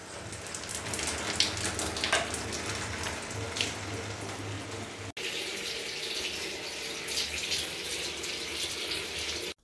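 Water drains steadily from a hose off an electric water heater (boiler) during heater element replacement, a continuous splashing and trickling rush that runs unbroken for the whole stretch, with a brief shift in level midway and no voices.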